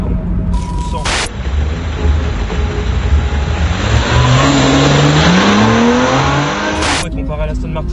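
A light Porsche sports car weighing about 1200 kg accelerates hard, its engine note climbing steadily through the gears as a loud, close, continuous roar with road noise, and a voice is heard alongside it.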